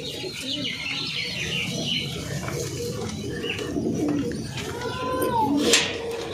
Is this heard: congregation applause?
no